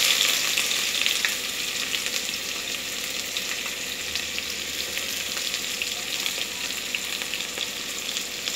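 Chopped onions fry in a pan with garlic and bay leaf, a steady close sizzle with light crackle and occasional stirring, no voices over it.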